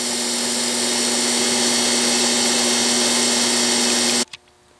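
A DC motor spins at its top speed of about 1700 RPM, giving a loud, steady whine with a strong constant hum that runs unbroken for about four seconds, then cuts off abruptly into near silence.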